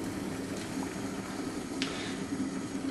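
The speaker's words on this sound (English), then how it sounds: "let's get the jug on," Electric jug kettle boiling water, a steady rumbling bubble and hiss at close range with a brief click partway through.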